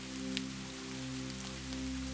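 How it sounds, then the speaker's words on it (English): Heavy rain pours down in a steady, dense hiss, with a low constant hum beneath it. "As the heavens opened up and rain poured down in torrents"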